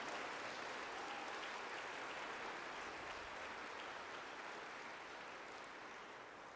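Dense, steady applause from a concert audience at a church's Celtic Christmas program, a full wash of clapping holding evenly for the whole stretch without a break.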